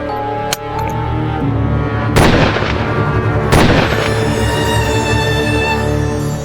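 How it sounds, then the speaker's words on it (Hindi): Three sharp gunshots crack out, one early and two louder blasts a second or so apart, over a constant humming background. "गोली चलाओ।"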